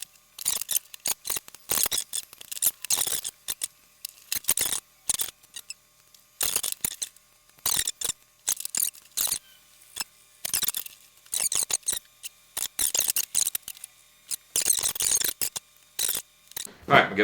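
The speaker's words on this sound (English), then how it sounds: "Any flash I can trim away with scissors, especially while it's green." Scissors trim flash from a cured silicone mold: sharp, dry snips in irregular bursts close to the mic, with short quiet gaps between cuts.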